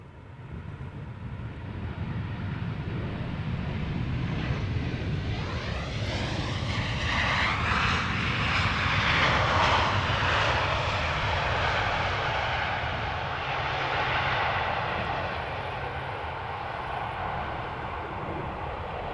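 A jet airliner at Amsterdam Schiphol Airport roars past, its engine noise swelling to a broad peak midway and then slowly fading, steady and fairly near with no talking.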